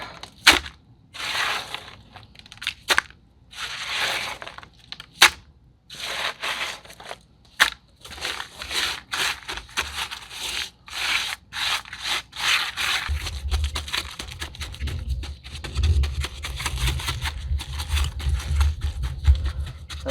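Wet concrete mix is shoved and packed into a pot mold, giving close, gritty crunching and scraping in uneven bursts, followed by a steadier rough rubbing with a low rumble underneath.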